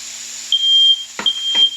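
A very sensitive kitchen smoke detector, set off just by turning on the stove, sounds three sharp, loud, high-pitched beeps, one long tone followed by two shorter ones, nearby against faint background sizzle.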